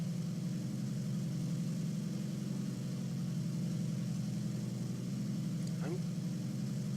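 Engine drone of a Japanese reserve-tier plane in War Thunder, a steady low hum with a pulsing texture at reduced throttle, constant and fairly faint, with a short rising whistle near the end.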